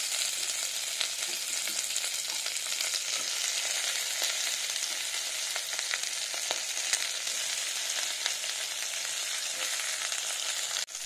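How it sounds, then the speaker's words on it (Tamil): Onions, tomato and banana stem frying in a pan give a dense, continuous sizzle with small crackles throughout, close and steady, with no talking. "வந்து பொரிய ஆரம்பிச்சிச்சு, இப்போ வெங்காயத்தை போட்டுக்கலாம்."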